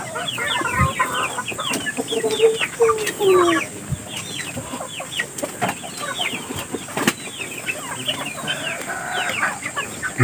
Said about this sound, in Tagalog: papakainin ko na po itong mga manok